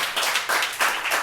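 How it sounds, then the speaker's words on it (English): An audience at an Armenian heritage show in a tavern claps together, a brief close burst of applause with uneven rhythmic hand claps. "if we can give a round of applause to Word of South as well"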